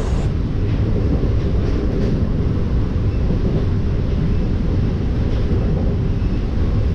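A MEMU local train running on the Konkan line near Roha and Kolad, heard from inside with a loud, steady low rumble of wheels and heavy wind buffeting, continuous with no talking.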